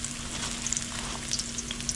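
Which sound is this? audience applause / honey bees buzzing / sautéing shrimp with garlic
sautéing shrimp with garlic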